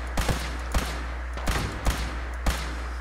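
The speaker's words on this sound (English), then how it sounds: "Incoming fire." Scattered gunfire in Fallout 4, five or six sharp shots spaced irregularly over a few seconds, some in quick pairs, above a steady low hum.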